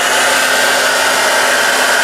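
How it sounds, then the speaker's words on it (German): A hair dryer turned up to high power, running from an EcoFlow Delta portable power station in a motorhome, gives a loud, steady, close airy roar with a faint constant whine throughout and no voices. "den Föhn nach oben fahren"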